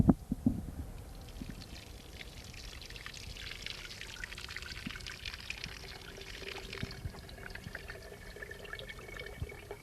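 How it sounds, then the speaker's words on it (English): Water poured and trickling slowly through a patch of grass into a jar, a steady soft running and dribbling sound that goes on throughout, with a few knocks near the start. "See how long it's taking that water to run through this grass?"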